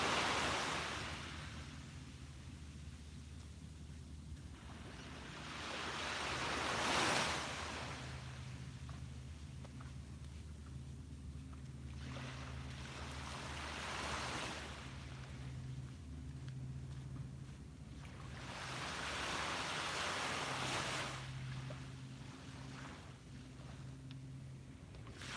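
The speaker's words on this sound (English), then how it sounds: "soak in the sound of the waves" Ocean waves wash ashore at a beach at sunrise, with broad swelling surges rising and falling in slow repeating cycles over a steady low rumble of surf, fairly distant and unbroken by voices.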